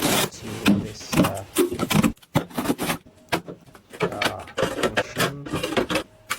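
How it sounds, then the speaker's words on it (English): A plastic folding washing machine runs with busy, uneven mechanical whirring and clatter, loud and close, pulsing with a few brief pauses. "This is a plastic folding washing machine."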